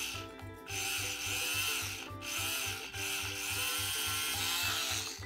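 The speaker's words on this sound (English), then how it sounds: "Now let's drill a hole." A small toy drill whirs steadily while boring into a Play-Doh tooth, with a pulsing motor hum and a soft grinding rub against the dough, loud and close.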